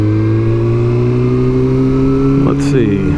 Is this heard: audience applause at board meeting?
no